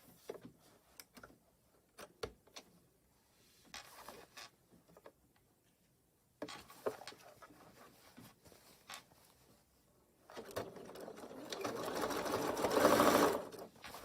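Sewing machine stitching a basket, running in short bursts with pauses and clicks between, then a longer, louder steady run toward the end.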